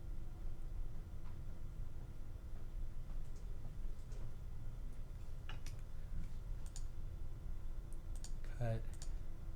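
A computer mouse clicks during image editing work, with a handful of scattered, faint, sharp clicks spread across several seconds over a quiet room hum.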